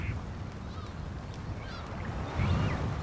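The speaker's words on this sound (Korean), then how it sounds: "이곳은 바다새들의 집단 번식지다." Kittiwakes and other seabirds call from a breeding colony on Arctic island cliffs, faint overlapping cries and squeals heard at a distance over a steady wash of wind and surf.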